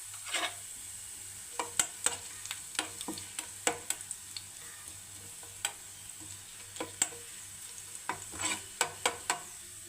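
Green chillies crackle and sizzle in hot tempering oil with mustard seeds for a coconut-bit chickpea curry, irregular sharp pops over a steady frying hiss, close and alone.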